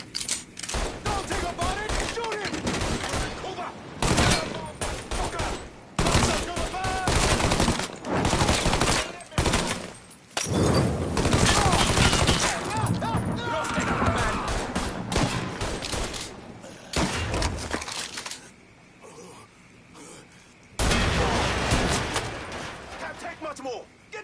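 Gunfire in Mafia 3 Definitive Edition rattles in long, dense bursts of automatic and single shots, near and loud, broken by brief lulls, with shouting voices mixed in throughout.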